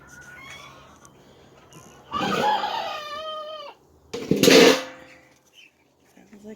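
A rooster crows nearby in two loud, drawn-out calls, with softer clucking from a backyard flock of chickens before and between them.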